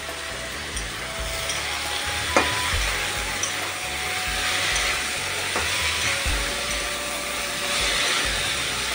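Bitter gourd fries over a high gas flame in a pan with water, salt and turmeric, giving a continuous close sizzle and hiss with occasional stirring knocks and no talk.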